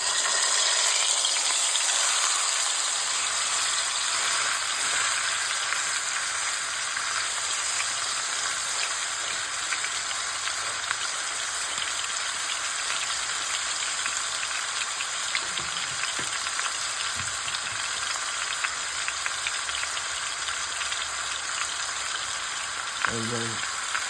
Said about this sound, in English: we have some vegetable oil in there. So what we wanna do is get a nice little sear.